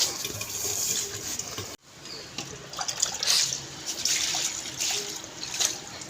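Tap water running steadily while fish is washed in a home kitchen, a continuous splashing trickle that cuts out briefly, then resumes with intermittent splashes and clinks.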